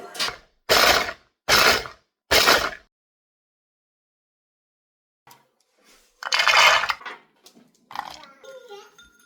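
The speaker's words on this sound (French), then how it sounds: "Maintenant que mes amandes et mes cacahuètes ont bien refroidi, je vais venir les mixer." A blender chops roasted almonds and peanuts in four short, loud pulses, then falls silent before one longer grinding burst and some faint clattering afterward.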